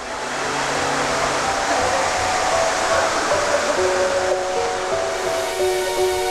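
A waterfall pours in a steady, loud broadband rush that fills the whole clip, a continuous roar with no pauses.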